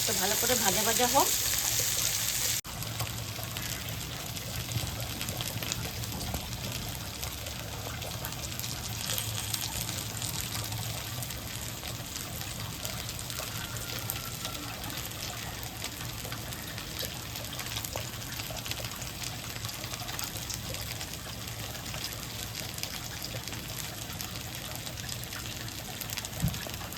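Dal is poured into a wok of frying soybeans, onion and green chili: a brief splashing pour at the start gives way to a long, steady, moderate sizzle and bubbling simmer.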